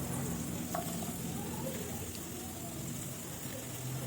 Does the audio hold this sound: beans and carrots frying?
yes